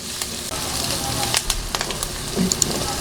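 Chopped onions sauté in a hot pan for a beef giniling dish, with a steady close sizzle and scattered crackles and stirring clicks throughout.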